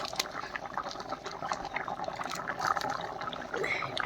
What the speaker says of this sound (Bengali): এই যে দেখুন তরকারিটা এখন ফুটে যাচ্ছে, ফুটে গিয়েছে।